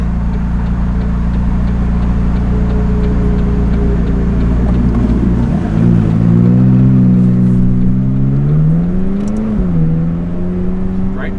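A McLaren 570S sports car on Beverly Hills streets in LA drones steadily from inside the cabin, then its engine rises in pitch as it accelerates hard partway through, loud and close.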